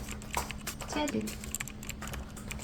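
Computer keyboard typing while entering a request into ChatGPT, a quick run of close, light key clicks, with a voice talking faintly over part of it.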